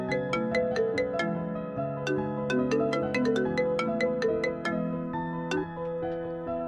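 A melodic telephone ringtone plays as a call is placed, a bright repeating tune of plucked electronic notes, steady and close, with no one talking.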